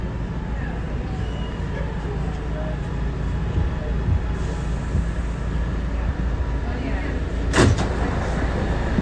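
R211A C subway train rolling between stations in a tunnel, a steady loud rumble and rattle heard from on board, with a brief sharp metallic squeal near the end.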